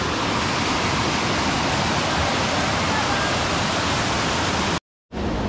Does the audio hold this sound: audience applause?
no